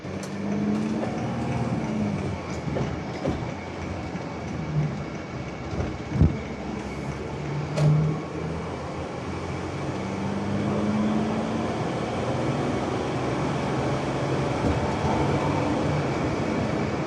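Steady rumbling cabin drone from a 2017 Mercedes-Benz Sprinter 2500 luxury conversion van on a test drive with the AC running on a windy day, a constant broadband road and wind roar with a few soft knocks and no talking.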